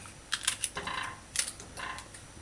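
A knife dices okra into roughly inch-sized cubes on a cutting board, giving a quick series of irregular, sharp taps and clicks close by, with no one talking.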